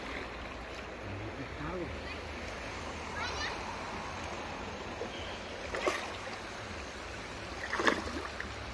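A cold, clear river flows steadily near mangroves, a constant soft rushing wash while people talk over it, with a few louder splashes toward the end.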